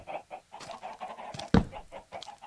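A chicken in Minecraft clucks in a series of short, repeated bursts, close and moderately loud, with one sharper thump partway through.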